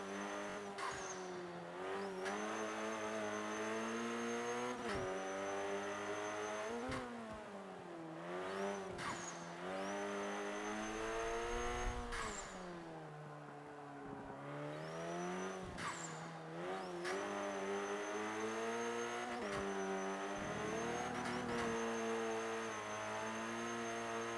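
Rally car engine on flying laps in Forza 5, a loud, steady engine note climbing through each gear and dropping sharply on every short upshift, with brief lifts and tire noise between revs.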